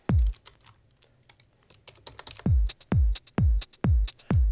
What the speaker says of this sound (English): And let's just put in some hats.